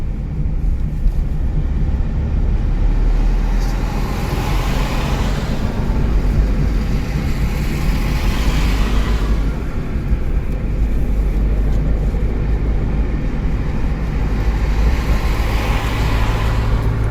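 A car engine drones steadily and loudly throughout a first-day driving lesson at a driving school in Solan, a continuous close rumble with gentle swells as the revs rise and fall.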